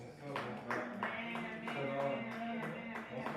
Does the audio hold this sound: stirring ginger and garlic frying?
no